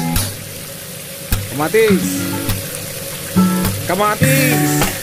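Shrimp, tomato and bottle gourd sauté in a hot pan with a steady sizzle and frying crackle, close up, while a voice talks over it in short phrases.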